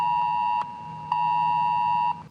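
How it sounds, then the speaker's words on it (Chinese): Mobile phone earthquake alert tone sounding in southern Chile after a magnitude 7.5 offshore quake: a steady, loud electronic beep held continuously, broken by two brief sharp interruptions, with no voices. "手机警报响"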